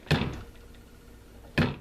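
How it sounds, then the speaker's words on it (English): Small doors on a Cryptkeeper animatronic snapping shut under rubber-band tension, two sharp close knocks about one and a half seconds apart with quiet between. "And rubber bands are what make the door shut."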